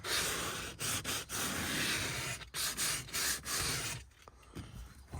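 Light sanding on the plastic trim of Land Cruiser leather seats makes a close, loud, rough rubbing that comes in repeated strokes with brief gaps and grows quieter near the end, with no speech.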